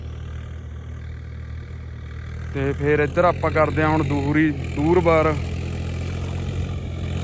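A tractor engine drones steadily nearby while puddling a flooded field, a constant low hum with someone speaking over it midway.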